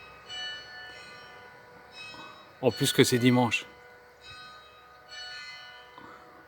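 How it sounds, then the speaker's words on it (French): Church bells of an abbey ring for Sunday mass, a steady sustained peal of overlapping tones that carries through the whole stretch while a voice briefly talks over the middle. "Il y a les cloches qui sonnent, ça doit être l'heure de la messe."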